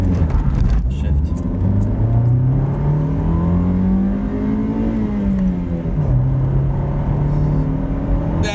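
A car accelerates hard from a standstill, its engine note climbing through the gears with a brief dip at each shift, loud and close inside the cabin.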